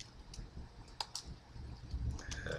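Quiet computer keyboard typing, a few scattered soft key clicks at close range with low background noise and no voices.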